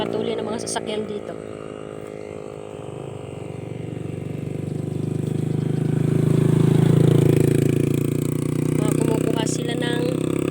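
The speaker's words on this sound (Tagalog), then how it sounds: "Napakatuli ng mga sasakyan dito." Vehicles race past on a busy road, with engine noise swelling to a loud peak midway and then easing off, while people talk over it.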